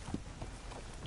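Horse hooves clip-clop at a walking pace in the Western game Red Dead, a few soft rhythmic thuds close by over low background ambience.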